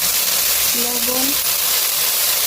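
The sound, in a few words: frying spice paste in a pan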